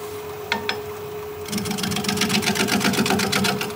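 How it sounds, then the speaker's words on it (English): Wood turning on a lathe, a gouge smoothing a vase where the turned surface meets a Forstner-drilled opening; a steady whirring hum with rapid rhythmic scraping pulses begins partway through, close and fairly loud, with no talk. "I'm just trying to smooth the transition between what I've turned with my gouge and what I drilled with my Forstner bit."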